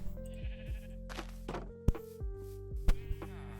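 Several short sheep bleats from a Minecraft game sheep farm, spaced across a few seconds with blocky hits and clicks between them, no talking.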